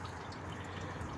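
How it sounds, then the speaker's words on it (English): Coolant draining from a Honda Civic radiator makes a steady, soft splashing trickle into a pan, continuous and fairly quiet at close range, with no voices. "While you're waiting for the coolant to drain"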